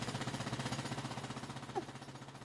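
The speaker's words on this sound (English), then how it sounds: "Oh, drilling equipment." Loud drilling equipment in a frontier area pounds with a fast, steady mechanical hammering rhythm, close and continuous, with a brief faint squeak partway through.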